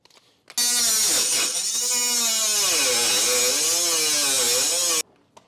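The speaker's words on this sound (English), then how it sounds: "I've been starting with this Milwaukee cutoff wheel." A Milwaukee cordless cutoff wheel cuts into metal while fitting tow loops on a 2024 Jeep Wrangler 4xe. A steady, loud high-pitched whine runs for about four and a half seconds and shifts in pitch as the wheel bites and eases off, with no talk.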